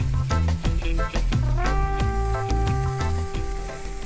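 Garlic and vegetables sizzling in a hot pan while being stirred, a loud steady fry with scraping and clinking of the utensil against the pan, close up.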